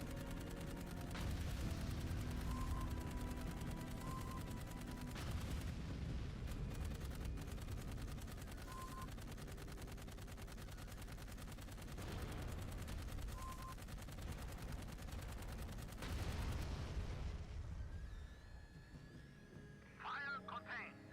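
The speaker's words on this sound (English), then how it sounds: "Shoot all these mines and, you know, see what happens." Mines are shot in the sci-fi shooter game Dark Void, with sustained bursts of rapid gunfire and rumbling blasts over a loud, busy backdrop. A voice talks partway through, and the din thins out near the end.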